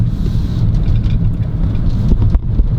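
A BMW 3 Series F30 with a four-cylinder diesel engine on the move: a loud, steady low drone inside the cabin, mixed with road and wind rumble.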